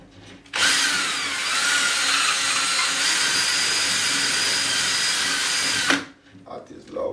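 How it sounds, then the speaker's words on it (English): A power drill whirs loudly and steadily for about five seconds, drilling a hole in a wall to fit a flat-pack shelf, starting and stopping abruptly, with faint sounds after it stops. "so I'm gonna drill my hole"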